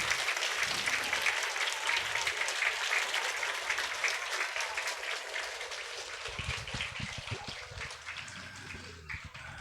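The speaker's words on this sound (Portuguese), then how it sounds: "Uma salva de palmas para os nossos professores," A school audience applauds its teachers and director, a sustained patter of many hands clapping at moderate distance, thinning slightly toward the end as a few nearer, sharper claps stand out.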